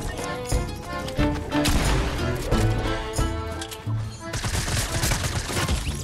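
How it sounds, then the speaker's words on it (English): Video game gunfire in Fortnite, with a loud run of sharp shots that overlap in bursts across several seconds and sit close and heavy in the mix. "I'm pretty sure that fool just shot me through the wall"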